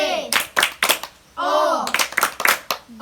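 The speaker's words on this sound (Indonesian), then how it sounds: "Oke, ayo kita kasih tepuk good untuk Sion." Children in a classroom clap out a "tepuk good" rhythm as a group, with sharp bursts of claps mixed into their chanted voices and a teacher's talk.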